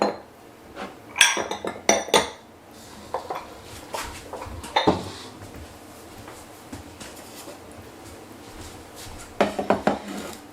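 Baking pans are gathered and handled in a home kitchen, giving loud close metallic clanks and clinks in clustered bursts with quieter gaps and a final flurry of rattling.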